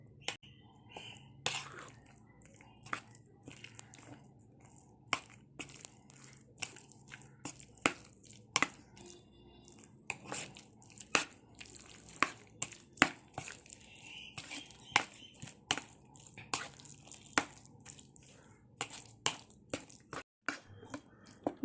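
Wet squishing and slapping as chicken pakoda marinade with yogurt and lemon is mixed by hand in a bowl, a steady close-up rhythm of sticky strokes with no talking.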